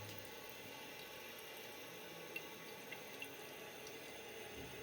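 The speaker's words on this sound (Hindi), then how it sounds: "जैसे इसमें आवाज़ आना शुरू हो गया और पानी भरने लग गया है" Water runs steadily into a tank, a low continuous rushing with a few faint drips and clicks, quiet and distant, with no talking.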